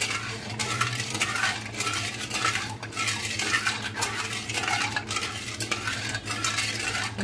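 A spoon stirring sugar into bael fruit juice in a pot, with continuous close scraping and rhythmic clinking of metal against the vessel, no voices.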